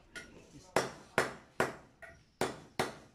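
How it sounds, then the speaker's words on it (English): Metal spoon being hammered flat into a barbecue spatula, six sharp ringing metallic strikes at a steady rhythm, close and loud with short decays. "So I got a spoon, I'm flattening it."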